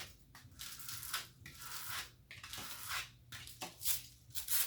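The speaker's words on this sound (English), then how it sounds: "some people call scrape, some people call burnish. I say rub it on there" Vinyl decal transfer tape being rubbed down onto a shirt for Halloween, heard as repeated close, faint scraping strokes in an uneven back-and-forth rhythm, with no talking.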